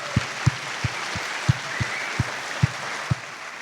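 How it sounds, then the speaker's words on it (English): Applause at the Bitcoin Atlantis 2024 conference, mostly a diffuse crowd wash with a regular thumping beat of evenly spaced low pulses running through it, as if music plays alongside. "So we should all give a round of applause to Andre for everything here."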